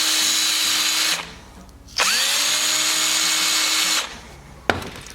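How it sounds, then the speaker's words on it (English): A power drill bores a hole near a John Deere brake switch in two long, loud whining bursts with a short pause between, the motor winding down after each, followed by a sharp click. "Drill a hole."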